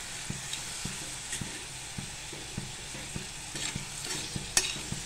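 Tender cluster beans (gavar) sautéing in a pan, with a steady soft sizzle under regular clinks and scrapes of a spatula stirring the beans, close and moderately quiet.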